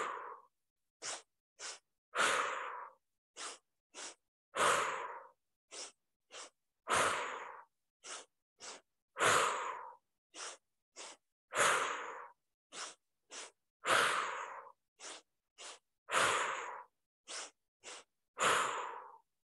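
Rhythmic XiXiHu walking breathing exercise for the lungs, with repeated sharp sniffing inhales and longer forceful exhales in a steady pattern of short-short-long bursts, close and clear, with no talking.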